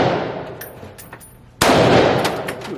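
Shotgun blast at an outdoor shooting range, one sharp loud report partway through followed by a ringing decay, with faint background noise before the shot.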